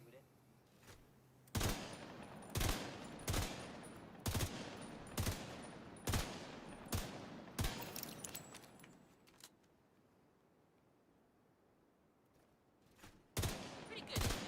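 Outdoor gunfire in the bush, a string of loud, evenly spaced single shots, one after another, then a pause and a final shot, with faint voices around.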